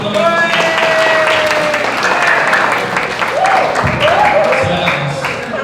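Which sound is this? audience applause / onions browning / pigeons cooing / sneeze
audience applause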